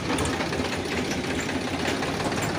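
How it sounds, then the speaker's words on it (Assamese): A steady, close tractor engine drone with a rapid knocking rattle, running continuously throughout as the tractor approaches. "ট্ৰেক্টৰ আহিছে ট্ৰেক্টৰ"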